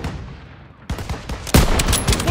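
Rapid gunfire in a Call of Duty WW2 battle, with loud bursts of automatic weapons cracking close by over a rumbling battlefield, growing more intense partway through.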